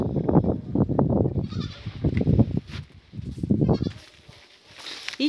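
Young goat kids let out outdoors on a farm bleat repeatedly in short, close bursts, several overlapping, with brief pauses between calls.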